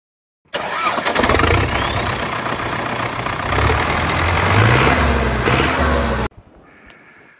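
The D240 diesel engine of a 1984 MTZ 82 Turbo tractor cranks and fires up close by, running loud and rough with a rising whine as it revs, then cuts off abruptly.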